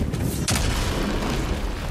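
A bomb blast in God of War Ragnarök, a sudden broadband burst about midway through, set against a steady rumbling game soundscape.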